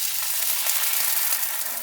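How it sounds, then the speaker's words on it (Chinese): Pan-fried eel for fish soup hissing loudly as boiling water is poured in, a dense, steady roar of sizzle and steam at close range, no talking. "鳝鱼煎好，下开水"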